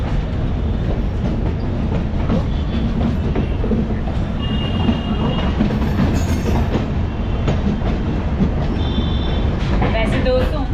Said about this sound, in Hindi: ये लोकल ट्रेन है.